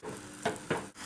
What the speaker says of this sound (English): just keep stirring it around